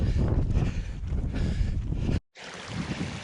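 Strong gusting wind roars across the microphone on an icy fell trail run in the Northern Pennines, a loud continuous buffeting with a brief dropout near the end before the blustering resumes.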